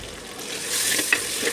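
Tomatoes fry in a pan for fish masala, giving a brief, steady soft sizzle with a small clink of a stirring utensil near the end.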